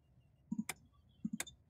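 Small dry clicks repeat inside an A2A Cessna 172 flight simulator cockpit, coming in two quick pairs about three-quarters of a second apart, faint and isolated against near silence.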